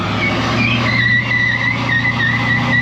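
1974 Ford Ranchero with a 351 Cleveland V8 launching off the brake, a close, loud engine roar with tire squeal layered over it, steady and continuous.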